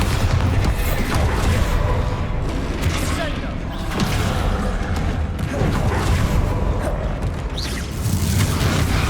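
Bombarda blasting spell explosions from the Hogwarts Legacy video game: dense, loud booms and crashes pile up continuously across the whole stretch, with game effects rumbling underneath.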